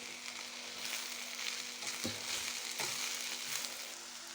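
Bitter gourd pieces fry in a pan with a steady, fairly quiet sizzle and a few faint stirring scrapes, no voices.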